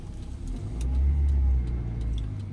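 A car pulls away in first gear during a driving lesson, its engine note rising and holding steady through a low, continuous rumble before easing slightly, with no one talking over it.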